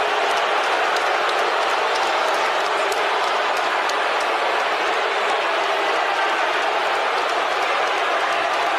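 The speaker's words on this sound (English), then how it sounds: "Elias getting booed out of the arena, the Key Arena." A large arena crowd at Seattle's Key Arena, the former home of the Seattle Supersonics, boos the wrestler Elias with a loud, sustained roar that fills the whole stretch without a break.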